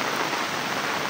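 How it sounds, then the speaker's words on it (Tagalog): Heavy rain pours steadily in a broad, dense hiss of drops hitting surfaces, close and constant throughout, with no voices. "Dahil malakas ang ulan dito"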